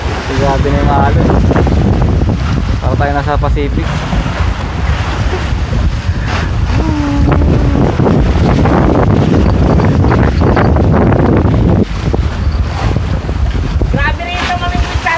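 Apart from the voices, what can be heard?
rough ocean waves and wind around a fishing trawl boat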